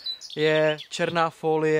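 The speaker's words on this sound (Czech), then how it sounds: "Ty ptáci strašně řvou." Loud birds chirping close by, a few bright, harmonic-rich calls in quick succession, with a voice speaking briefly beside them.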